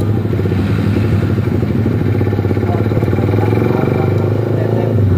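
A Suzuki GSX-R150 motorcycle with an aftermarket exhaust runs continuously, a loud, close, rumbling engine note with a rattly texture and slight rises in revs, no voices over it.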